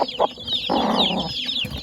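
Native desi chickens on a village poultry farm cluck close by, with short clucks at first and then a longer, louder squawking cackle, several birds and chicks sounding over each other.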